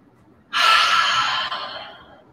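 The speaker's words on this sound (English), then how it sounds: "Exhale it out." A single long breath pushed out during yoga practice, close and breathy, lasting about a second before trailing off softly.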